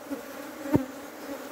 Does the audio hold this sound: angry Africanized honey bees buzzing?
yes